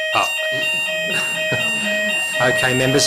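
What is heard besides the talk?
fire alarm sounding in council chamber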